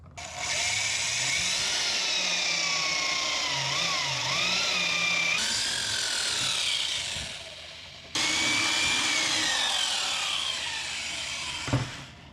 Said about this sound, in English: Whenever you're drilling a larger hole, always make sure to use a pilot hole first.